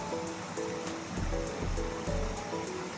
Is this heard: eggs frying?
no